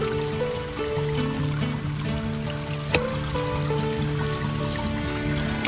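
Water trickles and streams through a roof gutter after leaves have been cleared, a steady close dribbling flow with a faint background hum and one small knock, no talking.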